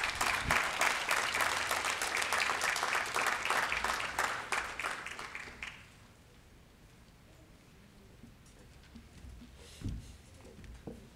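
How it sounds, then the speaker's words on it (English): A conference audience at a Down Syndrome Family Network event applauds with dense, lively clapping for several seconds, which then fades out to quiet room tone. "Please welcome him with a round of applause."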